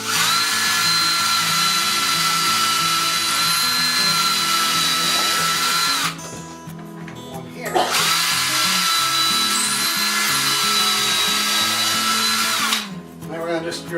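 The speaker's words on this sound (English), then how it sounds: "So now what we're going to do is drill a couple of pilot holes here." A power drill bores pilot holes for mounting a shelf for an over-the-range microwave, running in two sustained, loud bursts with a steady whine, each ending abruptly with a short pause between.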